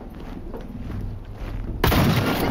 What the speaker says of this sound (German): Schüsse gehört.